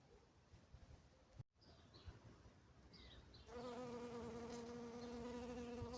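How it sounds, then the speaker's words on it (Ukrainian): Bees fly around a spring garden among crocuses, first as faint, passing buzzes, then as a louder, sustained drone as one comes close in the final seconds. "Бджілки літають"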